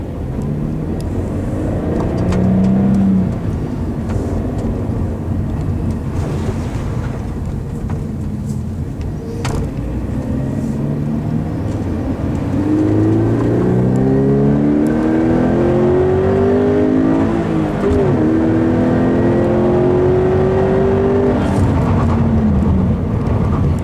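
A car travels at about 70 mph on snow with its ABS pulsing under braking, giving a loud steady road and engine roar with rising and falling whirring tones toward the end.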